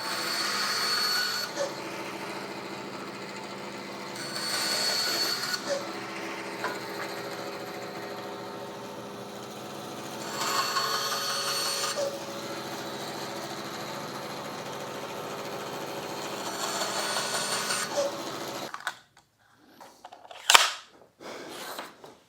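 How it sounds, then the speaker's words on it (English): Small pieces are cut off a maple scrap with a power saw, heard as four separate harsh buzzing bursts a few seconds apart over a constant motor hum, followed by sharp knocks and clatter near the end. "I'm just going to cut a couple little pieces off of here"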